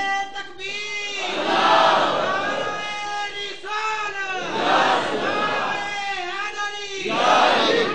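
A crowd at a religious gathering shouts a slogan in repeated loud, harmonious waves, each rising chant swelling and fading in a steady call-and-response rhythm.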